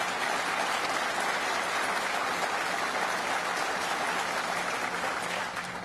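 Audience at a political campaign event in Buffalo applauding, a dense, loud, sustained wash of clapping that continues evenly before easing slightly at the end.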